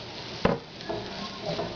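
A small red onion cooking in a pan as it softens, one sharp utensil knock against the pan followed by soft stirring scrapes and a gentle sizzle, close and quiet with no talking.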